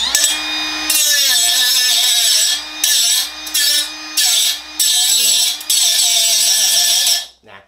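Milwaukee M12 cordless cutoff tool fitted with a carborundum-type abrasive wheel cutting into Rinnai Ubbink concentric vent pipe: a loud, close, high whine that bogs and rises in several bursts as the wheel bites and bounces, then winds down.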